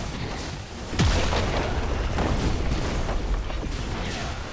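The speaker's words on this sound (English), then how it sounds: "Red team's turret has been destroyed." A red team turret is destroyed in League of Legends: a sharp boom followed by a sustained crumbling, rumbling collapse layered with game noise, loud and close, with no talking.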